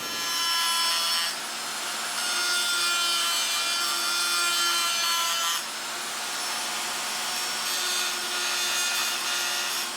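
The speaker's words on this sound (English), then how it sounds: "So I'm going around the perimeter with my die grinder and just digging in with the corner of a burr to make a nice hard line." A die grinder with a burr cutting a line around the perimeter of a forged steel blade, a steady high-pitched whining grind with slight pauses and pitch shifts as the tool moves along the edge.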